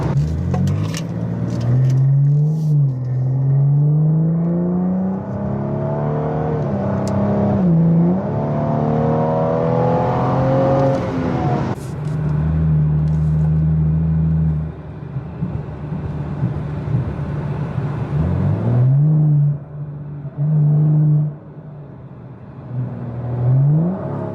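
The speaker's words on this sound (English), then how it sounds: "I just want to hear the turbo" A BMW 435i engine with an aftermarket downpipe revs repeatedly, pitch rising and falling through several bursts with a turbo whir, loud and close, no talking.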